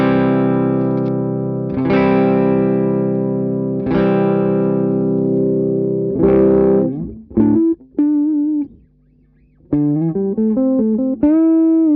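Daniels Guitars Royale '56 electric guitar on the neck pickup: several loud, warm, ringing chords left to sustain, then shorter plucked notes and brief single-note phrases with a short gap of silence, no voices.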